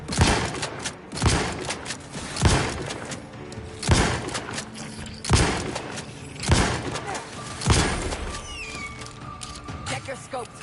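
Gunfire in The Outer Worlds 2, a run of heavy, booming shots at an uneven rhythm of roughly one per second, with background noise and a faint voice under the blasts.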